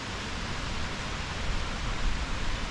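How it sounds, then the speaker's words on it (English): Cautley Spout, a long cascade waterfall in the Howgill Fells of England, gives a steady, loud broadband rush of falling water heard from nearby, unbroken and with no voices. "Cautley Spout lays claim to being the longest waterfall in England."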